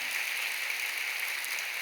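Audience applause for a church worship team at a Bible graduate school lecture, a faint, even patter of clapping that sounds distant and steady throughout.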